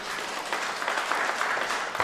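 A handball crowd at a 4-wall championship match gives a short burst of steady clapping, a dense even patter of many hands filling the whole moment without pause.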